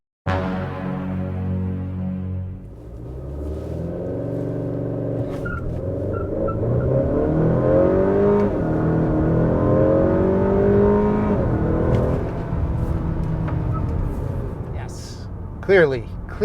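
A car on Michelin Pilot Sport 4S high-performance tires makes a hard 0-60 mph run, its engine note climbing steadily in pitch and loudness as it pulls, heard from inside over a constant road hum.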